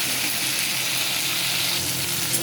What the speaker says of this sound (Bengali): আদা বাটা জিরে বাটা লঙ্কা বাটা ধনে বাটা দিয়ে দিয়েছি এখন আমি নাড়াচাড়া করবো